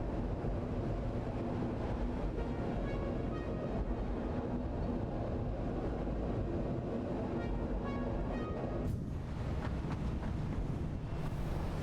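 A train in the factory-building game Satisfactory rumbles along with a constant roaring, windy drone that stays loud and unbroken, with a faint whoosh near the end.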